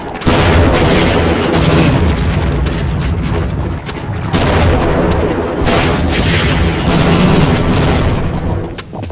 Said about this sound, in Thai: ยิงสิยิงสิปืนใหญ่อะยิงสิ อุ้ย มันยิงจริงเว้ย